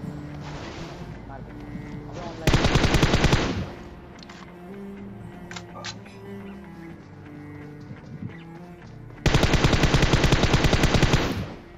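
Two long bursts of rapid automatic gunfire in PUBG Mobile, loud and close, separated by quieter gameplay sounds with scattered clicks and footsteps, while a player talks throughout.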